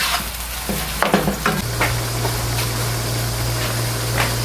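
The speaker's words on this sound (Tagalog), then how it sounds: "continue nyo lang i-gisa yan" Ground beef sautéing in a pan for lasagna filling, a steady close sizzle with occasional scraping stirs and clinks of the utensil, continuous with no talking.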